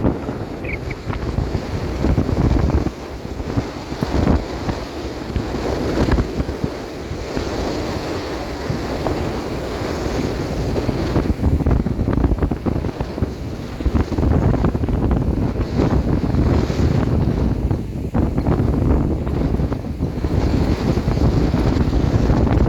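Strong wind roars and buffets the microphone continuously, with surf rumbling underneath; loud and steady with gusty swells, no voices.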